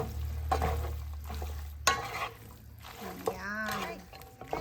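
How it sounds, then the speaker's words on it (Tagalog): Beef lo mein stirred and tossed in a hot pan, with scraping and soft sizzling in short bursts under a voice talking over it. "and then we'll just mix it again"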